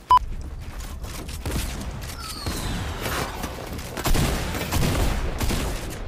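Gunfire in the Fortnite video game: a dense, sustained fusillade of rapid, loud shots and booms that carries on steadily for several seconds, with no voices.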